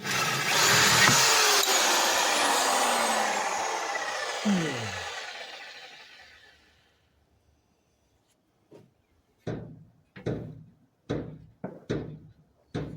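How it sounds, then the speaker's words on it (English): A corded drill bores a pilot hole in wood for instrument console work. A loud whine runs for several seconds and winds down, followed by about six sharp separate knocks and clunks, with no talking. "So I drilled the pilot hole. I found it better to use this than cordless."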